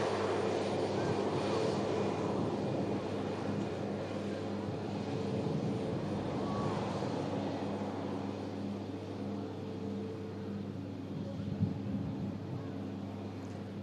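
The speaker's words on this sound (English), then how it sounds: "This is the Air Transat 321 Neo, sorry. Just touching down, coming in from Toronto." Air Transat A321neo airliner touching down after arriving from Toronto, a steady, moderately distant engine roar and rumble of wind-like noise holding for many seconds.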